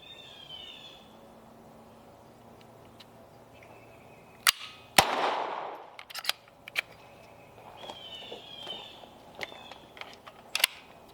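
Sig Sauer P322 .22LR pistol shots at an outdoor range: one loud sharp crack with a ringing tail, then scattered quieter distant pops and clicks, amid light range ambience.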